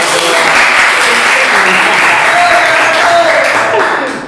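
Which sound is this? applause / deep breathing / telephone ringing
applause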